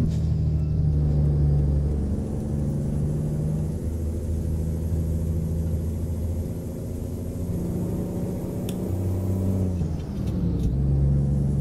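Heavy truck engine in American Truck Simulator, hauling a double trailer, drones low and steady, with revs shifting up and down between gear changes and a brief hiss near the end.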